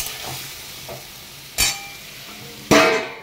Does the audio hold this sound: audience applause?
no